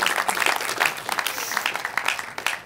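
Applause from a crowd of many hands, dense and fairly loud, filling the whole moment with no talking.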